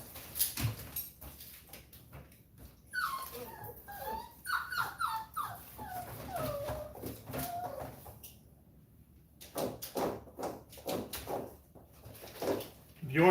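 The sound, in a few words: puppies whimpering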